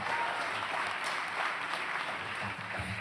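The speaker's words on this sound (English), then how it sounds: "So we applaud and thank Misha, even in absentia." An audience at a commencement ceremony claps steadily, a dense, even wash of many hands heard from within the hall, with no voices above it.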